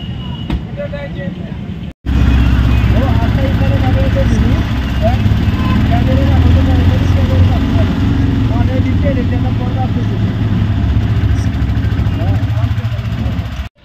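A shared Vikram auto-rickshaw engine droning loud and steady from inside the cabin during a village road ride near Mahad, Raigad, a continuous rumble after a brief cutoff, with voices talking over it.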